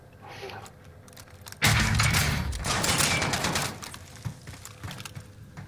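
Gunfire in Warzone: a sudden loud burst of rapid shots followed by sustained rattling fire, then quieter scattered pops, with a voice talking briefly before the shooting.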